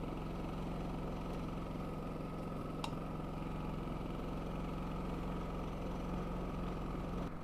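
WEN 56380i 3800-watt inverter generator running with a steady, low, even hum at close range, with no voices over it.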